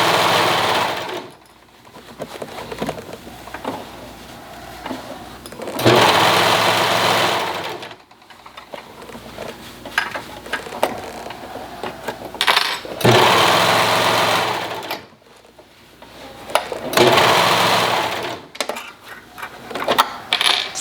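A serger stitches fabric in several separate bursts, each a loud, fast mechanical whirring run of a few seconds, with short pauses between runs and no talk.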